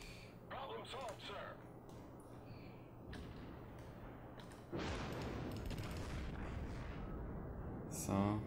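A naval battle in a video game: a warship takes heavy hits. Muffled booms are followed by a loud, sustained rumbling blast midway, with someone talking over the action.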